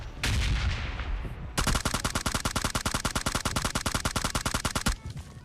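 Gunfire in the mobile game PUBG Mobile Lite: a burst of shots, then a long rapid automatic volley of evenly spaced loud cracks lasting several seconds before stopping.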